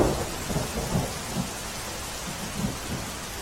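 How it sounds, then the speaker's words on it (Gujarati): Heavy torrential monsoon rain pours steadily over Jamnagar, Gujarat, with low rumbles of thunder rolling repeatedly beneath the dense hiss of rainfall, loud and close with no voices. "જામનગરમાં સાંબેલાધાર વરસાદ પડ્યો."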